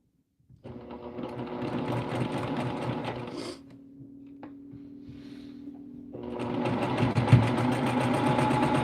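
Sewing machine stitching a fabric placemat made from a printed panel, running in two loud steady bursts separated by a quieter pause with a faint hum, close by with no talk.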